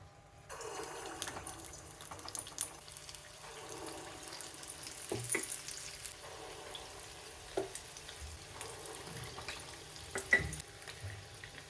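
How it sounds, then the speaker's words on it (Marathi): Potato balls coated in urad and moong dal batter deep-frying in hot oil, a quiet continuous sizzle broken by several sharper bubbling surges as pieces drop in. "ते बॉल्स आपण उडीद आणि मूग डाळीच्या बॅटरमध्ये मिक्स करून फ्राय करून घेऊया"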